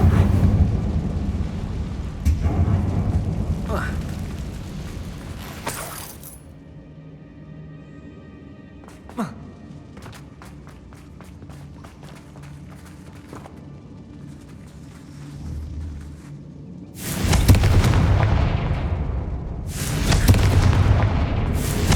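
Confringo fire spell in Hogwarts Legacy, a loud booming blast that rumbles and fades, followed by quieter game ambience and a second heavy explosion near the end.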